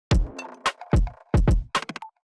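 Programmed drum track from a song production: a short pattern of punchy kick and snare hits with small fills, close and loud on its own.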